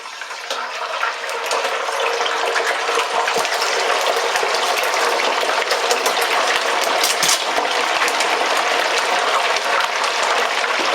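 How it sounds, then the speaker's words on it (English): Chicken wings bubble and sizzle in peanut oil heated to 375 degrees in a deep fryer, a steady loud hiss of crackling spatter that swells in the first second and holds evenly throughout, with no talking. "the fryer's been preheated to 375. I am using peanut oil. Let's get these guys fried up"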